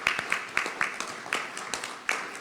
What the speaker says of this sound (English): We should give them a round of applause as well.